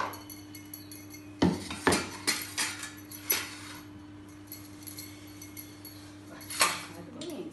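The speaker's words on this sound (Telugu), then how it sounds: "ఇప్పుడు రోట్లో దంచుదాం." Roselle and dry chilli chutney pounded in a stone mortar, a series of sharp knocking strikes in an uneven rhythm with pauses, close and fairly loud over a faint steady hum.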